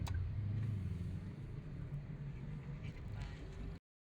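Congested road traffic near Anyer beach, with a steady low rumble of idling and creeping vehicles, moderately close, before it cuts to silence.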